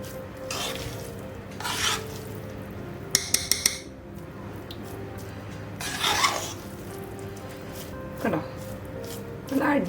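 A fork mixing cooked masala rice in a pot, soft scraping strokes and a brief run of light metallic clinks, close and quiet, with a person talking throughout.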